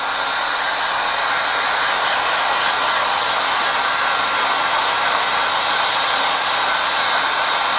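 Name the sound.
heat gun shrinking poly bag around book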